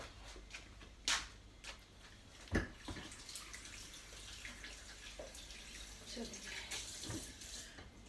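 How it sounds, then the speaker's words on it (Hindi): Water runs from a tap as hands are washed, a quiet, steady splash broken by a couple of louder knocks and clinks. "मैं हैंड वॉश करती हूँ।"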